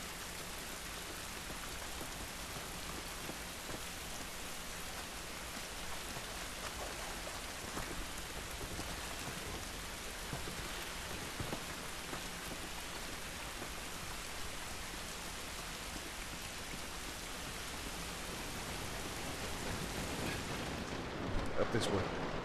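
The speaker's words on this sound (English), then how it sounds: "This rain ain't gonna do us any good." Steady heavy rainfall in The Last of Us, with a dense hiss of drops hitting surfaces outdoors. It stays loud and continuous throughout, with a short burst of louder noise near the end.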